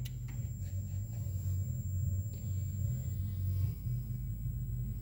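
Motor of a Guillotine XPC19 PRO paper cutter spinning with its belt removed, a steady low hum and rumble with a faint high whine, continuous and fairly even throughout.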